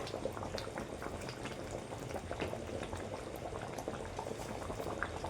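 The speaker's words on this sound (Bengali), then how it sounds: "খিচুড়িটা করার জন্য জলটা বসিয়ে দিয়েছি জলটা ফুটে গেছে" Water boils in a pot set on the stove for khichuri, a continuous close bubbling and gurgling roil with no speech.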